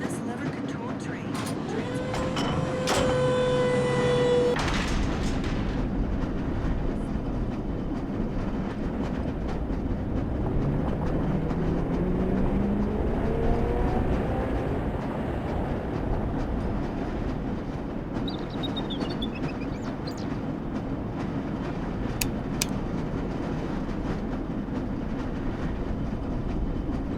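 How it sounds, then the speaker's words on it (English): A lever-controlled rail car in Black Mesa rumbles steadily along the track, with occasional squeals and clacks, a long continuous rolling sound at moderate volume. "This lever-controlled train"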